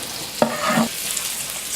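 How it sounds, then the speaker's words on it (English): Potatoes hit a hot pan with a sudden sizzle that settles into a steady, crackling frying hiss. "Hear that sizzle."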